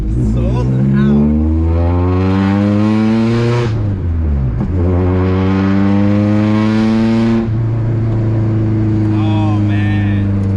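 A 1996 Honda Civic Hatchback DX engine drones loudly while driving, revving up in two long pulls with a drop between, its harmonics climbing and holding steady, very close and dominant.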